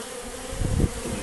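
Honeybees at a hive entrance bringing in pollen on a warm September day, a dense, steady buzzing swarm close by that swells briefly in loudness.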